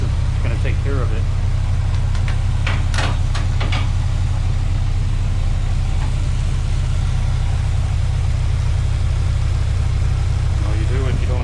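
A car engine idles loudly and close by after an ignition timing adjustment, its steady low rumble running with a slight misfire, and someone talks briefly over it.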